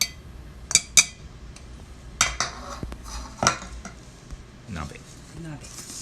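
A hot pot simmers on a single burner at a solo day camp as metal pots and cutlery clink in scattered, sharp knocks and scrapes, with quiet talk now and then.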